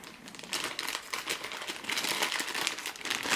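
Plastic bags holding Centipede board game pieces being pulled open, a close, loud, continuous crinkling and rustling of thin plastic with no talking.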